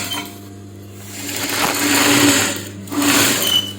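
A sewing machine stitching a blouse runs in short whirring bursts, a steady mechanical hum with rapid needle chatter that rises twice, close and fairly loud, with no talking.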